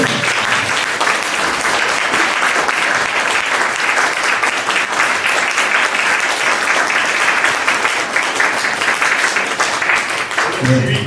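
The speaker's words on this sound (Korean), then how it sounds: "큰 박수로" Audience at a choir concert at an art museum in Samcheok, South Korea, applauding loudly and continuously with dense clapping that fills the room throughout.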